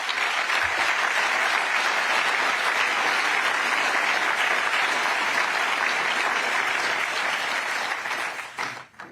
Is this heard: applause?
yes